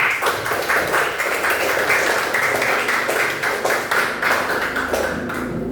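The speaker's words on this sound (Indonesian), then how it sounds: "Tepuk tangan untuk kita semua." Classroom group applause after a student presentation: dense, steady clapping from many hands fills the room at close range for the whole stretch, with no pauses.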